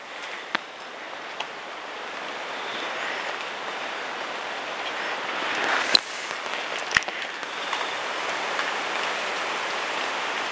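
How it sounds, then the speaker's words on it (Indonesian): Steady heavy rain pours down outdoors, a dense continuous hiss with a few sharp ticks and drips standing out, no voices over it. "ini secara alami hujannya itu udah turun nih. Nih, tiba-tiba turun begitu derasnya ya"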